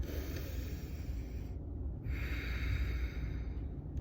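Forceful nasal breathing during a yoga bandha practice, a steady rushing exhale and inhale heard close up, rough and continuous for several seconds with a brief pause in the middle, no talk.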